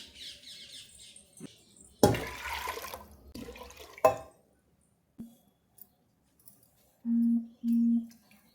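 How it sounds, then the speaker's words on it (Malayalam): Water pours into a pot of lentils for dal in a short, splashy burst, then quiet clinks follow and two brief electronic beeps near the end. "പിന്നെ ഇതിൽ പാകത്തിന് വെള്ളം ഒഴിക്കണം"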